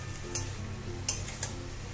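Soybean chunks sautéed in a pan for a vegetarian soybean and potato curry, a low steady sizzle broken by a few sharp scraping clicks of a stirring utensil.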